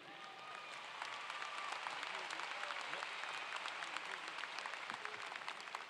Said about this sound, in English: Let's give Mayor Elicker another round of applause